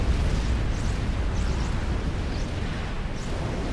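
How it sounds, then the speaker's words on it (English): Incoming missiles exploding in a large Forged Alliance Forever battle, a continuous loud rumbling barrage of blasts and booms with no clear gaps. "There's just so many missiles coming in here."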